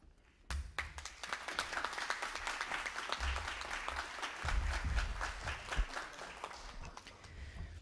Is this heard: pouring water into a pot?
no